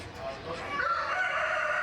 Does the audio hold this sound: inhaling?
no